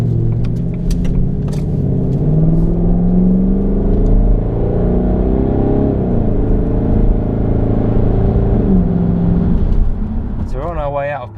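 A Jaguar XK8 drives along a country road in the South Downs, its engine a steady, loud interior rumble and road roar throughout, with a brief rise in pitch near the end.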